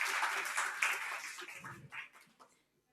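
A conference audience at a game-development talk applauds to welcome a speaker, a dense burst of clapping that thins into scattered claps and fades to silence.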